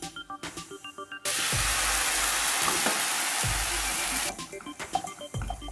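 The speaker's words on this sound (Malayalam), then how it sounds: "ഇതിലേക്ക് തക്കാളി പേസ്റ്റ് ഒഴിച്ചു കൊടുക്കാം." Tomato paste hitting hot masala in a pan while making Kerala-style paneer masala, a sudden loud, steady sizzle that holds for about three seconds, with quieter stirring and scraping before and after.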